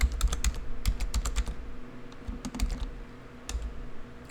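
A computer keyboard is tapped at close range in an irregular burst of crisp keystrokes while a password is entered, with short pauses between clusters of presses.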